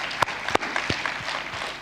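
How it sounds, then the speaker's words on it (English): Audience applause at a trade and investment forum, a soft, fairly distant wash of clapping with a few sharper individual claps standing out. "I think you need to give yourselves a round of applause as well."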